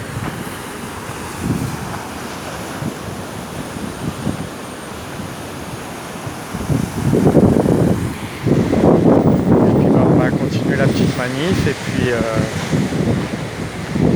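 Gusty wind buffets an outdoor microphone on Réunion Island, rumbling beneath someone speaking French, growing louder and rougher partway through.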